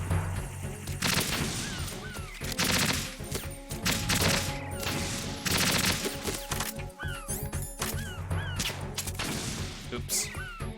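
Gunfire in the video game Metal Gear Solid 2, rapid bursts of sharp shots and impacts mixed with game effects and music, fairly dense and continuous.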